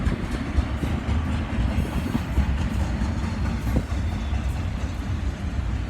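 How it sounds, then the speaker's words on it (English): Long BNSF freight train with four engines rolling slowly past in Flagstaff, Arizona, a steady loud rumble with faint rhythmic wheel clatter throughout. "It's a 1, 2, 3, 4 engine train."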